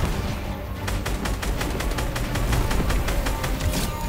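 Gunfire rattles through a Fortnite match as rapid, evenly spaced shots crack loud and close. A dense, rumbling backdrop of combat noise runs underneath.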